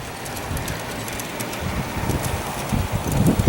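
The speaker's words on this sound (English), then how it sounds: "It's very windy today out here, so I apologize for the wind noise." Strong wind gusting across an open outdoor garden railway, buffeting the microphone with broadband rumble that swells louder toward the end, with low thumps and no voices.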